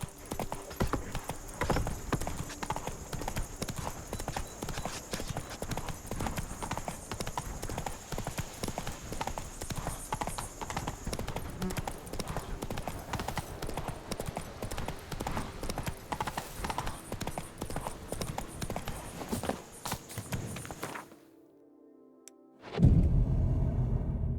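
Roach, the horse in The Witcher 3, trots with steady, rhythmic clip-clopping hooves for about twenty seconds, close and continuous, before it briefly falls quiet and a sharp sound follows.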